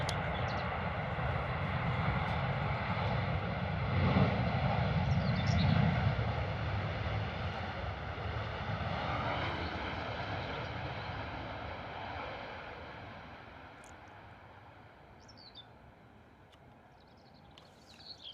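A Ryanair UK airliner inbound from Oslo lands at London Stansted Airport, its engine roar swelling broad and loud through the middle of the clip, then slowly fading away outdoors with no talk.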